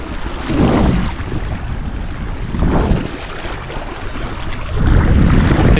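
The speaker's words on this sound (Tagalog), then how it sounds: "And lumakas yung yung alon. Siguro dahil nagkaroon ng hangin." Wind-stirred sea waves strengthening around a small fishing boat, heavy surging washes and splashes rolling in every couple of seconds amid blustery wind noise, close and loud without speech.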